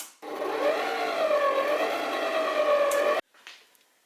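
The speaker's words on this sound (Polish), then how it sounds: "I jeszcze chwilkę miksujemy." Electric hand mixer beating cake batter with raisins for an Easter tea babka, a steady close whirring hum with wavering pitch for about three seconds before cutting off abruptly, followed by a short clunk.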